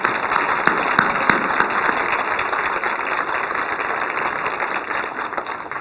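Applause from the audience at a 2019 distinguished alumni awards ceremony, a steady wash of clapping that holds at an even, fairly loud level throughout with no voices over it.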